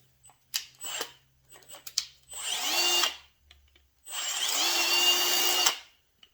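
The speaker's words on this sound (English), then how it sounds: "we're going to drill a 1/4 inch hole just in the plate" A power drill revs in two sustained bursts, whining high and loud as it bores a 1/4 inch hole into a metal plate, preceded by brief clicks and short trigger pulls.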